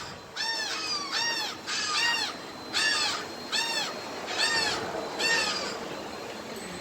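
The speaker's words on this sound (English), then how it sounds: "Like hearing the birds?" Birds call outdoors in a small coastal Florida town, a series of about seven loud, harsh, crow-like caws spaced roughly evenly, each a short rising-falling squawk over faint background noise.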